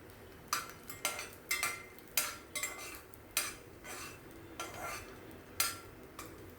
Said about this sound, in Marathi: हे पहा, अशा तऱ्हेने थोडंसं हे परतायचं आहे